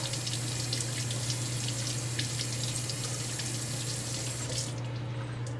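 Tap water running steadily to rinse a JNAT natural whetstone, a continuous close splashing rush with no talking.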